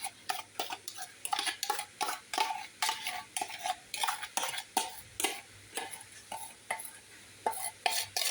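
Orange cake batter and cream being beaten by hand with a whisk in a bowl, giving a steady run of quick rhythmic clicking and scraping strokes, close and fairly quiet with no voices.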